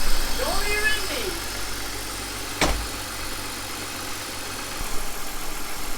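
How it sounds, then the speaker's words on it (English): A BMW E46 engine idles steadily with a low, even rumble with a vacuum line unplugged, broken by a sharp click midway and faint mechanical noises around it. "So it's idling fine without having this vacuum line plug."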